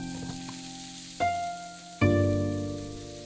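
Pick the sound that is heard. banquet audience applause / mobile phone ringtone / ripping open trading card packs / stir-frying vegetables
stir-frying vegetables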